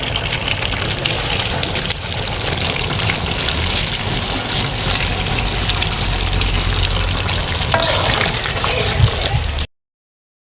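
Curry cooks in a pan after releasing a lot of water, making a loud, steady wet bubbling and sloshing that runs nearly unbroken at close range before cutting off abruptly.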